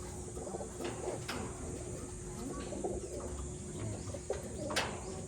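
Pigeons in a loft, including a racing foundation hen and her offspring, give low soft coos under steady background noise, with occasional faint chirps and a brief sharper sound near the end.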